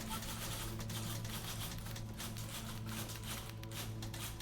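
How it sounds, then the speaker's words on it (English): A typewriter in the video game The Beginner's Guide types steadily, its fast keystrokes merging into a constant, busy rattle like a rapid-fire stapler, with no voices. "Oh, it's a typewriter."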